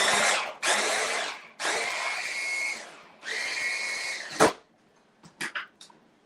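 A food processor blitzes a vegan BBQ mixture in loud, close bursts of high whirring, four pulses that stop and start, followed by a few clatters and knocks.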